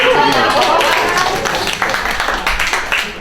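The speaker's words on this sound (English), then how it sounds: "How about a round of applause?" Audience applause and clapping after a sponge ball magic trick, a dense burst of many hands that starts loud and thins slightly toward the end, with talk mixed in.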